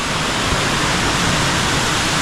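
A waterfall beside a trust office at the Baba Dhansar shrine gives off a dense, unbroken roar of rushing water, loud and close, with no pauses and no voices.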